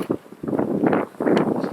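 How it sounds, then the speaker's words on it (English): Gusty wind buffeting the microphone on an open disc golf course, rough rumbling bursts rising and dropping in short waves, close and fairly loud, with no clear talk. "It's windy"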